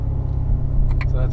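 Engine of a 2015 Corvette blipping up to match revs on a downshift, a low steady rumble with a brief rise near the end, heard from inside the car while people talk over it.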